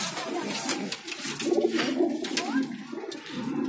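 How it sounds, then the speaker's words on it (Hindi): Domestic pigeons at a pigeon market in Delhi coo softly and repeatedly, close by, with faint talk and background noise around them. "ये देखो गाइस बहुत ही प्यारी कबूतरी है"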